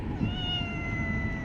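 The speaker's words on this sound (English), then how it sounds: "And if you hear any meowing in the background, that's because I'm going to surprise my mother with a kitty." A kitten meows indoors, a single drawn-out, clear mew with a gently falling pitch, close and fairly soft, with no talking.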